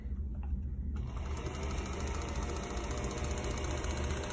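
A white 1960s Singer 221K sewing machine, pedal-driven, runs steadily up close with a continuous whirring motor and a fast mechanical chatter that stays loud and even throughout.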